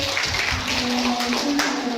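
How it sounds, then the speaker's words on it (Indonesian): A group claps for Pak Amir at a school gathering, a steady mass of hand claps lasting the whole span at an even level, with a faint tone underneath. "Tepuk tangan untuk Pak Amir"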